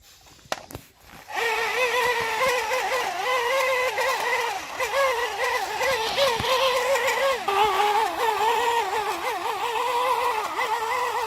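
A toy vehicle pushed along by hand produces a continuous whirring, wavering hum like a small friction motor, steady and close, beginning after a few brief knocks.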